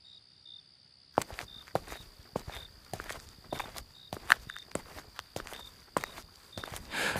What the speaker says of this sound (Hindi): तभी अचानक कदमों की आहट सुनाई दी।